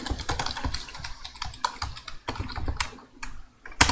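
Fingers type a search on a computer keyboard in quick, uneven bursts of close key clicks, with short pauses and a sharper final tap, and no talking.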